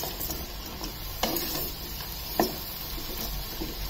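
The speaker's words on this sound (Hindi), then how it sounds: "इसे अच्छे से मिक्स करके धीमी आंच कर लीजिए" Stirring a thirty-vegetable mix cooking in oil, a soft steady sizzle with two distinct scraping clacks of the spoon against the pan, alone and fairly close.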